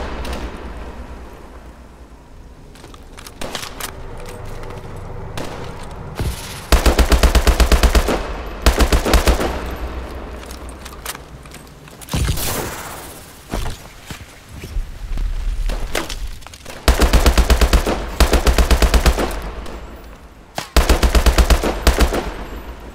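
Bursts of automatic gunfire in a Call of Duty: Advanced Warfare firefight, loud and close, arriving in several heavy volleys separated by quieter stretches of scattered shots and movement.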